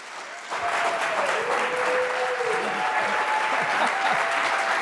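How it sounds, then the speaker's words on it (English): Audience members at a book talk give warm applause welcoming the speakers, a steady wash of clapping throughout, with a faint sustained tone running beneath it. "thanks for the warm applause from all the audience members"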